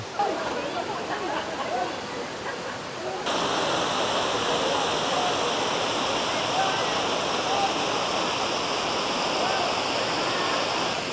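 Daranac Falls gives a steady, loud rush of falling water that fills the whole clip, the roar growing noticeably stronger partway through.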